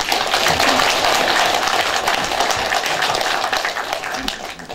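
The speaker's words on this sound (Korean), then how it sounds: "두 후보님을 위해서 박수 한번 쳐드립니다" Sustained, even audience applause at a Korean by-election candidates' debate, a broad wash of clapping with no talk, holding steady and easing slightly toward the end.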